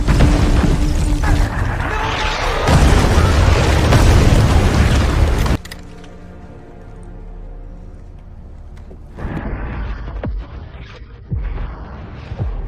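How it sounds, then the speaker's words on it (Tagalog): Loud, rumbling wartime bombing explosions roar in a sustained, chaotic burst, then cut off, followed by quieter thuds and rumbles in the distance. "narinig ang malalakas na pagsabog"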